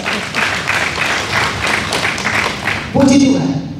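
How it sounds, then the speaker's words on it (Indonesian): Congregation clapping at a church talk show, a steady patter of hands for nearly three seconds before a louder voice breaks in over it. "Kasih tepuk tangan buat Tuhan."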